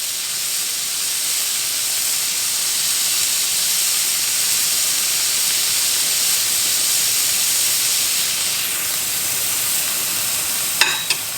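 Hamburger patty smashed onto a hot griddle, sizzling in a steady, even hiss that carries on uninterrupted, with a faint clink near the end.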